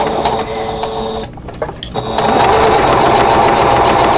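A sewing machine stitches through six stacked layers of fabric at the seams of a table runner. A steady mechanical whir is broken by a brief pause, then resumes louder and faster, close to the microphone, with no talking.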